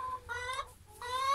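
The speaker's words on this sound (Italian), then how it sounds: "Altre galline qui dentro." Hens clucking inside a coop, two close, drawn-out clucking calls separated by a short pause, heard alone without talk.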